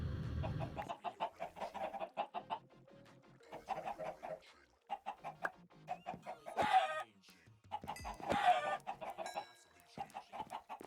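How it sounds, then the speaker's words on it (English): Chickens cluck repeatedly in a modded Minecraft skyblock world, a steady run of short game-sound clucks with a couple of louder squawks near the end, no talking over them. "These chickens are so hard to hit."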